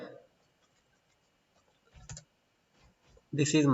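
A few soft keyboard clicks in near silence, a short burst of tapping, then a voice starts speaking.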